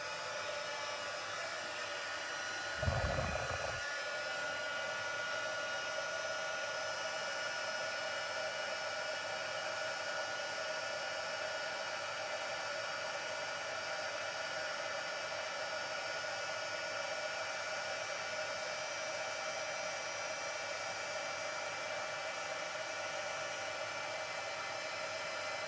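A heat tool switches on and blows continuously with a steady, even whoosh while heat-setting embossing on a card, starting with a brief low thump and then running unchanged to the end.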